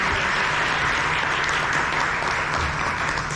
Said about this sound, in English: Let's give this guy a big round of applause.